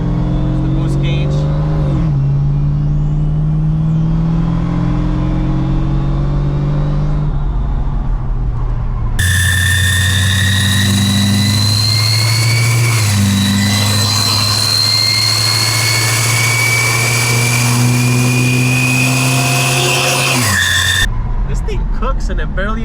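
A supercharged 1967 Ford Mustang engine accelerating on a cruise, loud and close, with rising revs that climb, shift to a higher surge partway through, then fall away near the end.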